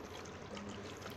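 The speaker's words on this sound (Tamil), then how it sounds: "இப்போ இதில் தண்ணி சேர்த்துடலாம்." About one liter of water is poured into a pot holding soapnuts, a soft continuous trickling stream close by and fairly quiet.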